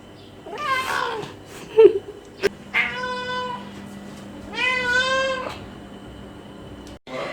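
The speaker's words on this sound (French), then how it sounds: "Le chat a faim." A hungry cat meows several times, long drawn-out cries with short gaps between them, close by in a quiet room with faint background noise.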